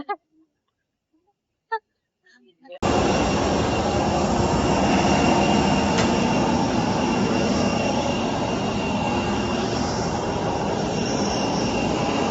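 Loud, steady roar of airplane jet engines at an airport, starting abruptly after a quiet moment with faint speech and holding a dense broadband whine close by.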